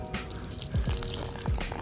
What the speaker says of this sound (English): pour down my nutrients